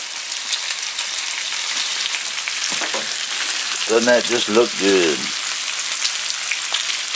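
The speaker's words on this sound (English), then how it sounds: "We got some bacon sizzling here on the Blackstone griddle." Bacon crackles and sizzles steadily on a hot Blackstone griddle, close and busy, while someone speaks briefly over the frying.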